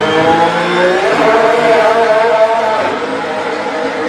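A Ferrari race car engine revs on track, switching from hybrid to combustion power. It gives a loud, close, buzzing mechanical whine whose pitch swells and shifts over a few seconds, with no voices.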